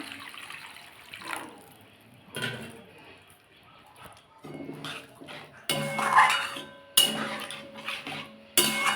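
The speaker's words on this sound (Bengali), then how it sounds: "এর মধ্যে জল দিয়ে দেবো বেশি জল দেবো না" Water is poured into a pan of cooked spices and oil for a Bhola fish curry with capsicum, amid clinking utensils and pan knocks, with bursts of pouring and splashing in the second half.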